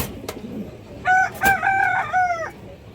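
A red male pigeon at a farm sale calls with a few tonal coos and crow-like notes over a low background murmur.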